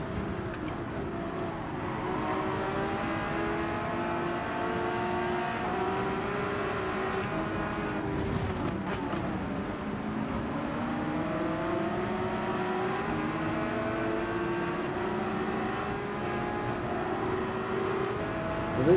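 Group 3 race cars on soft tyres howl around a Gran Turismo 7 circuit, with steady engine drone and rising and falling revs as gears shift throughout, loud and continuous without speech.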